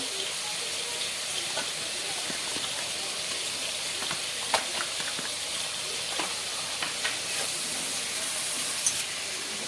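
Tomato with salt and ginger paste sizzles in a pan for prawn curry, a steady broadband hiss with occasional faint clicks of stirring throughout.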